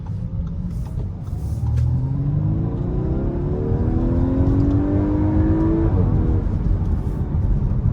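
An Audi S5 accelerating hard in sport mode, engine note rising through a gear with a brief shift dip, loud and steady from inside the cabin, no talking.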